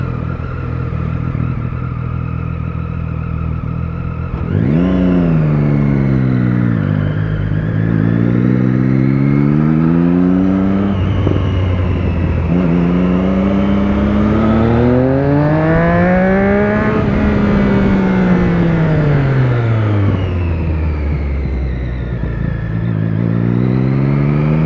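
A Suzuki B-King motorcycle engine revs loudly and close by, climbing and falling in pitch through several long, smooth sweeps of throttle over a steady, powerful idle.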